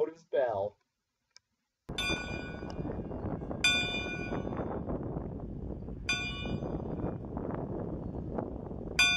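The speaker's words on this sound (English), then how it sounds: "ring the locomotive's bell" A cab-mounted locomotive bell on Chicago, Burlington and Quincy 13501 at a railroad museum rings out in several single loud clangs a couple of seconds apart, each ringing on over a steady rumbling background after a brief spoken phrase.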